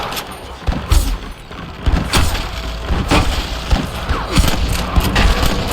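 Gunfire in Red Dead Redemption crackles in repeated rapid bursts, loud and close, with booms and mechanical clatter filling the gaps.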